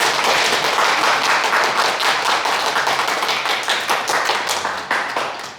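Loud, dense applause from a lecture audience fills the room, a steady wash of many hands clapping at once that keeps going and tapers off slightly at the end.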